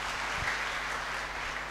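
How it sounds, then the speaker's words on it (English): A church congregation claps steadily through a worship service, a dense, even patter of many hands heard from a distance at moderate volume with no one speaking over it. "Shall we clap for Jesus?"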